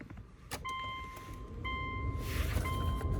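A 2005 Subaru Outback's newly replaced blower motor runs during a final test inside the car, giving a steady whine with thin tonal hum and rushing airflow that swells briefly partway through. No one speaks.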